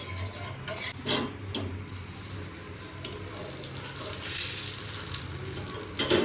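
Paratha frying in a hot wok with a steady close sizzle, joined by occasional scrapes and a louder hissing burst near the end.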